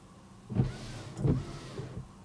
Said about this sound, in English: The wipers are now wiping.